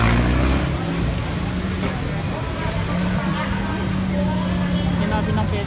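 Busy street traffic in Baclaran, a steady near wash of car and motorcycle engines with low rumble and passing vehicles, continuous throughout with voices mixed in.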